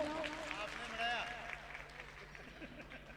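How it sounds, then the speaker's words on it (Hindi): An audience at an Ambedkar Jayanti political rally breaks into scattered applause, fairly faint and crowd-like, with voices and hubbub mixed in over a few seconds. "ताली बजाओ।"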